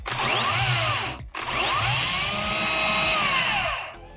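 A Makita XCU06 18-volt cordless electric chainsaw runs loud and close with a steady high-pitched whine, cutting off briefly before spinning back up.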